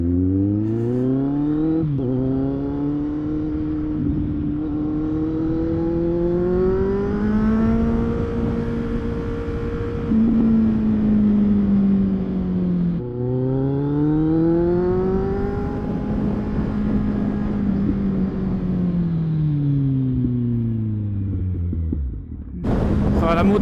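Kawasaki Z800E motorcycle ridden on the road, engine loud and close, rising in pitch through the gears, easing off, then climbing again in a second long pull, with a brief dip near the end.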